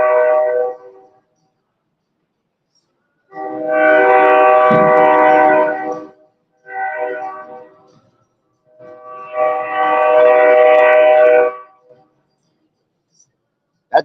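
A train horn sounds in long harmonic blasts as a train passes, four loud sustained honks with short gaps between them, close and with no speech over it.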